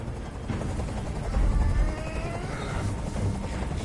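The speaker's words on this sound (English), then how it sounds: "I can't stand that noise anymore! Tell that helicopter to get out of here!" A helicopter in the video game Detroit: Become Human makes a low, rumbling drone mixed with faint mechanical clatter and a few dull thumps, fairly quiet and continuous with no voices.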